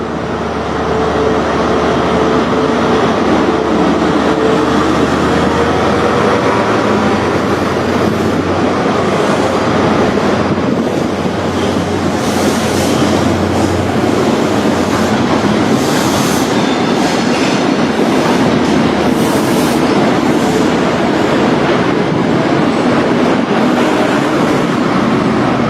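A train pulls away from Dundee station, its engine throbbing loud and close in a steady roar, with rail clatter and faint wheel squeal building over about half a minute.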